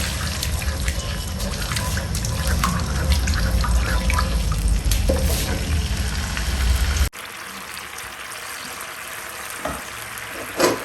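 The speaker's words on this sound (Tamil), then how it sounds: "இதை பாருங்க இப்படி நல்லா பாயில் ஆகுது." A sweet and sour sauce with soy sauce bubbles in a pan, giving a steady close sizzle and crackle that stops abruptly partway through, leaving faint quiet drips and bubbling.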